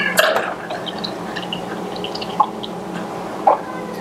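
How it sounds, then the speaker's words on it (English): Beer poured during a homebrew session with an Anvil Foundry all-in-one brewing system, heard as a soft steady liquid trickle with a few brief drips, close and moderately quiet, no one speaking. "What say we pour beer?"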